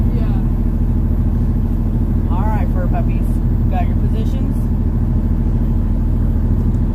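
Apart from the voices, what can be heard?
truck engine turning on and idling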